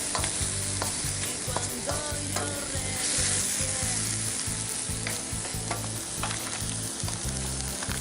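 Butter sizzling with mushrooms and garlic on a grill, a continuous close frying hiss broken by rhythmic scraping and stirring strokes, with no talk.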